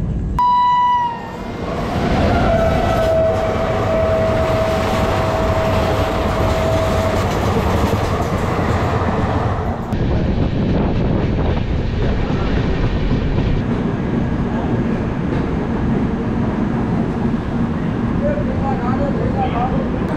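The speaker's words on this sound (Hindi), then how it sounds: "हाई स्पीड ट्रेन इसकी देखिएगा, देखिए।" A high-speed train rushes past close by on an Indian rail route, a loud, sustained roar and rumble of wheels and cars with a horn-like tone early on, running continuously for about twenty seconds.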